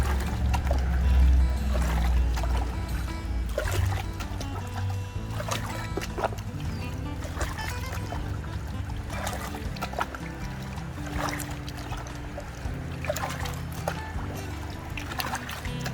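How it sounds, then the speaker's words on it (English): Water pours steadily into a tub during blue bowl gold prospecting cleanup, a continuous close splashing trickle with occasional knocks, running throughout. "we may have to add a little extra water in here"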